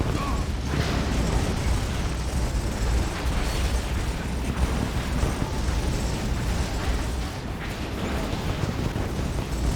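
Artillery volley explosions in Command and Conquer: Kane's Wrath, a dense continuous roar of blasts and rumbling booms filling the whole stretch with no clear gaps.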